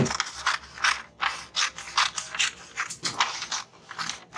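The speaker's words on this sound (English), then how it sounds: "So now I'm going to be cutting out this shape." Fabric being cut into a shape for a dress flounce, heard as a steady run of about a dozen crisp, rhythmic ratcheting snips of scissors close by, with no voices.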